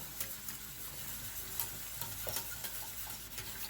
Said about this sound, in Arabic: غنبقى نحركها حتى تذوب تقريبا لا جيلاتين في الخليط الساخن